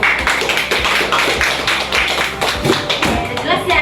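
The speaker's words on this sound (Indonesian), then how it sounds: "Tepuk tangan untuk Bayu." Students in a classroom clap for a classmate, a loose, uneven burst of close hand claps and taps with a few thumps, fairly loud and slightly scattered.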